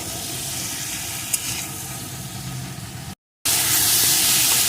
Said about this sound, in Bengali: এখন বেশ কিছুক্ষণ আমি সব কিছু কষিয়ে নেব